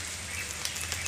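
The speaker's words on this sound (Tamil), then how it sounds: "மழை பெஞ்சிட்டு இருக்கு பாருங்க நேத்து நைட் நல்ல சம்ம மழை இப்போ வந்து லைட்டா தூரிட்டு இருக்கு" Light rain falls steadily outdoors near a mango tree at a home, a soft continuous hiss of small drops pattering on surfaces, quiet and even throughout with no speech.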